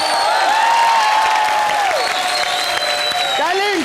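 A large television comedy show audience claps loudly and continuously, with occasional cheers mixed into the steady applause.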